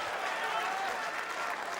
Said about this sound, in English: Even the Wizards supporters applaud those.